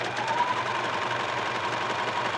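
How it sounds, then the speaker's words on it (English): A serger runs steadily, stitching stretched elastic onto fabric with a close, continuous mechanical hum and rattle, without a break and with no talk over it. "you might want to always test your serger before you start running your fabric through"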